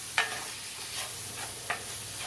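Sliced onions, lightly salted, sauté in a pan while cooking toward soft for a pork chop dinner, giving a faint steady sizzle with two sharp spatula scrapes about a second and a half apart.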